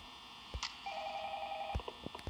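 A telephone in the Five Nights at Freddy's video game gives a steady electronic tone of about a second, framed by a few sharp clicks and thumps, with no talking.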